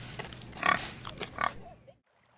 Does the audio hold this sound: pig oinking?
yes